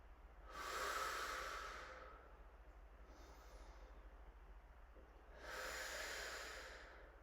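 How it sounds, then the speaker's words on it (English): Two slow, deep breaths with a quiet pause between them, each a broad airy rush swelling and fading, close and alone over a low steady hum. "let's just take a few breaths"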